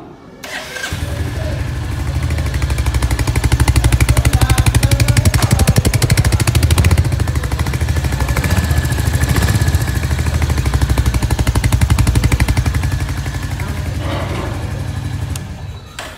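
A 2024 Royal Enfield Hunter 350 motorcycle engine starts and runs at close range, chugging steadily with a rough, throbbing idle and slight revs before cutting off.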